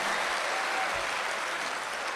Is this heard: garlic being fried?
no